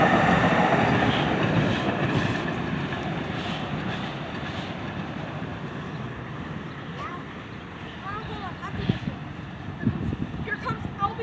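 A train rounds a corner as it approaches Bachman Station, its rumble and rail clatter fading a little, then picking up sharp clicks, with wind noise throughout.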